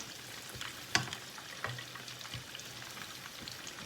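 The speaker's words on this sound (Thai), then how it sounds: "ทอดไปจนกว่าจะเหลืองกรอบนะเพื่อนๆ นะ" Shrimp spring rolls wrapped in a net pattern deep-frying in oil, a soft steady sizzle with a few sharp pops and clicks close by, and no talking.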